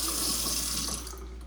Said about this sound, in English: And good running water here is on.